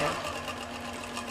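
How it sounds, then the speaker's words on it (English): Quilting sewing machine stitching steadily at close range, a continuous fast mechanical whir with a faint voice underneath. "if I stop moving the machine, it carries on stitching right now"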